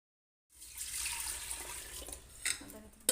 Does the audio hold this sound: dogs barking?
no